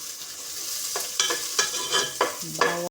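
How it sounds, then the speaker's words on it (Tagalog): Chopped onion and garlic sautéing in oil in a pan for pork monggo, a steady sizzle with several stirring scrapes and clinks of a utensil against the pan, close and alone. "Tapos lagay na natin yung sibuyas at saka bawang."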